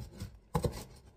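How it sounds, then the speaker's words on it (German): Mezzaluna rocking knife chopping rocket leaves for pesto on a board: a couple of soft, close, dull chops in quick succession, with faint rubbing before them and no talk. "nehme hier so ein Wiegemesser, man kann natürlich auch ein normales Messer nehmen, zerkleinere das so ein bisschen"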